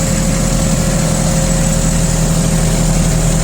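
A Kubota Aste A-155 tractor engine idles close by, a loud, even diesel rumble with a constant droning hum and no change in pace.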